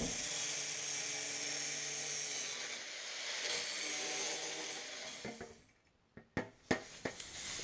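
Power tool cutting through sheet metal for the transmission tunnel of an Audi Sport Quattro replica, a steady, loud whining cut running for about five seconds before stopping, followed by a few sharp metallic clanks.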